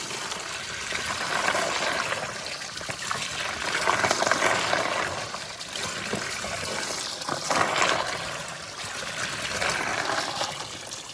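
Water trickling and splashing in a small garden fountain bought from Temu, a steady close burble with gentle swells in loudness and no voices over it.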